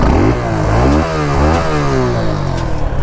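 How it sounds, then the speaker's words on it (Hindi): A Suzuki SX 250 motorcycle, a 250 cc bike, revs its exhaust while parked: loud, close engine roar that rises and falls in pitch through repeated throttle blips, with no voices. "तो एग्जॉस्ट नोट सुना देते हैं पहले आप लोग को"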